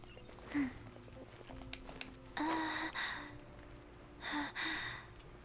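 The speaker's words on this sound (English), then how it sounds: "Please stop breathing hard." A video game character breathes hard in a few loud, breathy gasps and exhales, spaced irregularly over soft background music.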